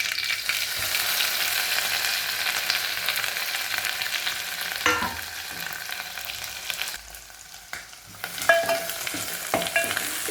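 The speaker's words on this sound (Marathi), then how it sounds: "तेलावर चांगलं परतून घ्यायचं" A spice paste of ground masala with turmeric is sautéed in oil, making a steady sizzle with repeated stirring and scraping. A brief lull near the end gives way to renewed sputtering.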